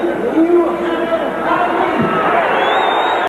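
A boxing arena crowd roars and chatters loudly and continuously after a referee stops the fight, with shouts rising through the din and a commentator speaking over it.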